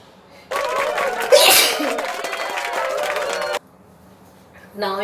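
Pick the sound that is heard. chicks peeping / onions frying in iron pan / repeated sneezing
repeated sneezing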